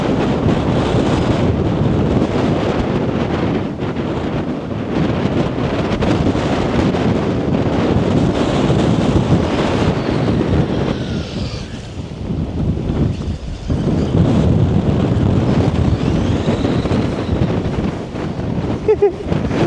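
Strong wind buffets the microphone outdoors during a run of a Traxxas mini Maxx RC truck, in loud, rumbling gusts that rise and fall, with a brief lull partway through and no clear speech.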